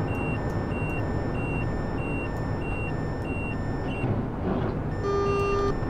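Train cab alarm in Train Simulator 2014, repeated evenly spaced electronic beeps over steady engine rumble, shifting to a longer continuous tone near the end.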